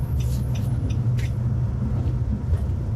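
A car cruises along a road in Bonaire, heard from inside as a steady low engine and road rumble with faint higher rattles, constant throughout.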